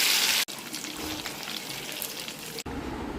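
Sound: fish frying in oil

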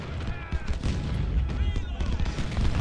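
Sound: cannon fire in the video game Ultimate General: Civil War

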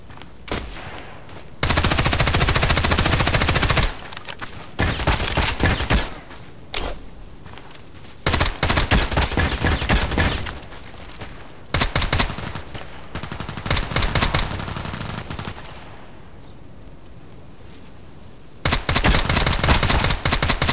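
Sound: Sig Sauer MPX gunfire in Contract Wars video game

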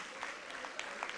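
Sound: audience applause at a school debate

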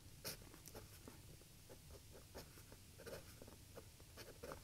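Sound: writing with a TWSBI Eco fountain pen on paper

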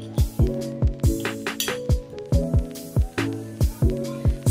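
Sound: spoon clinking while mixing turmeric in a glass

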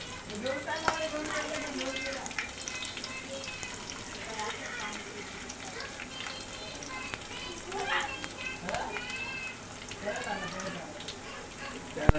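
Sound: garlic added to frying oil

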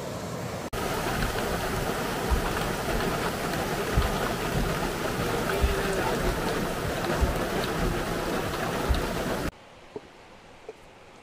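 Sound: rain falling

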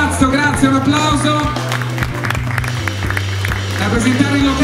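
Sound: audience applause at beauty pageant

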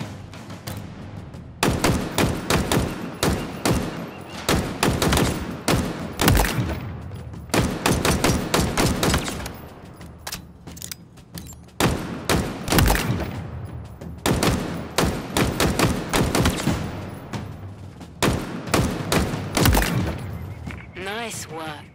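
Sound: gunfire shooting targets in the video game Halo Infinite

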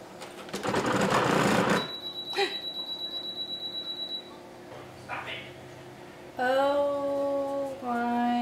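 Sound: sewing machine stitching a DIY laptop case pouch

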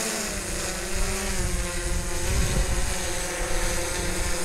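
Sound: DJI S800 EVO hexacopter drone hovering

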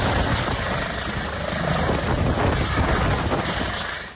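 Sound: medical helicopter

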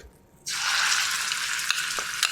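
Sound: ground spice paste frying in hot oil

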